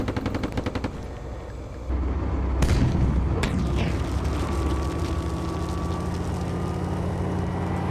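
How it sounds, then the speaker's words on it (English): A tank gun in the Steel Beasts Pro simulator fires amid rapid machine-gun rattle, then two sharp, heavy blasts and a collapsing rumble follow as a tower comes down, leaving a steady engine drone. "that last shot took that entire tower down"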